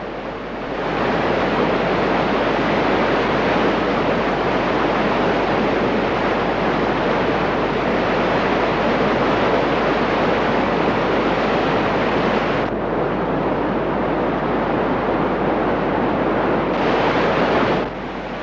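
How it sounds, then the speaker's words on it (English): Steady, loud rush of stream water cascading over rocks and frothing, a continuous broadband roar with no voices, close by and unbroken for the whole stretch. "After the water cascades over rocks, it froths up like a giant washing machine full of soap suds."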